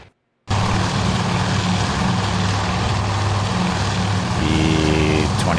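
A B-26 bomber's propeller engines drone loudly and steadily in a World War II naval battle game set at Midway, a continuous dense roar that starts abruptly after a brief silence and holds without letup.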